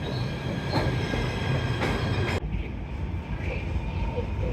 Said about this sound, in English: Finally here at the subway station.